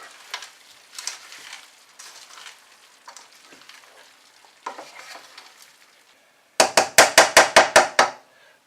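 Spaghetti casserole mix with sweet corn stirred in a pan, giving scraping, shuffling strokes in bursts, then a run of seven loud, evenly spaced knocks like a spoon tapped on the pan rim.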